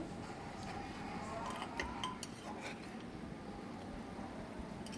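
Mutton curry is stirred in a pot with chopped coriander, faint scraping and light metallic clinks of a spoon against the pot over low background noise.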